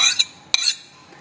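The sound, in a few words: stirring flour into quark batter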